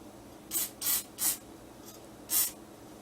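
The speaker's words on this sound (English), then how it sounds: "put a little lube on these threads" Lube sprayed onto the threads of a Tristar 12-gauge semi-auto shotgun: five short, close aerosol hisses, four in quick succession and one after a pause, in a quiet room.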